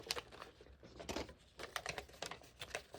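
Blue 3M tape peeled from a mail package in short crackling rips and crinkles, close and fairly quiet, with several bursts of tearing spread across the moment.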